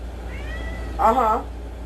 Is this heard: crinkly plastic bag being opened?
no